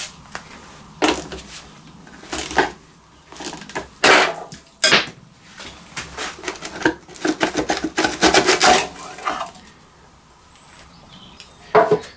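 Cutting and scraping at rust-seized plastic on an extremely rusty scrapyard lawn mower, a series of short rasping, rubbing strokes at close range, irregular bursts with brief pauses and no talking.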